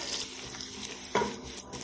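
A medium onion sizzles as it fries in hot fat in a pan, a soft steady crackle with a brief stir or clink near the end, quiet and close.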